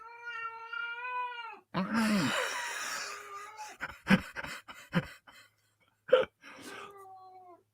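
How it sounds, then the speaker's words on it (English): A pet cat meows several times indoors, starting with a long, clear, drawn-out call, then giving shorter cries between breathy noises and bursts of other sound, ending with a final meow. "That's my cat saying hello to everybody."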